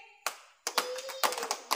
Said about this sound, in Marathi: 3 टाळ्या वाजवायच्या